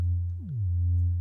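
A Vital wavetable synth bass note with an overdone voice-transpose pitch envelope, a steady low tone that dives sharply downward mid-note and then settles, sounding alone for just over a second.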